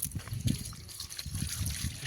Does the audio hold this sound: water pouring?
yes